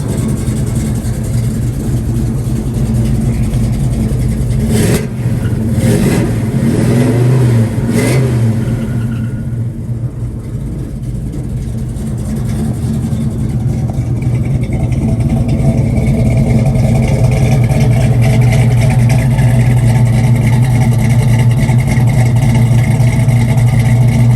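A 1970 Chevrolet Chevelle engine revs loudly up close, with a deep, sustained rumble and a few sharp throttle blips early on before settling into a steady, heavy drone.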